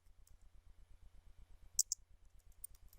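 Rapid, light clicking of keys being tapped on a computer keyboard while a search is entered, a steady run of small close taps with a couple of sharper clacks partway through, no voices.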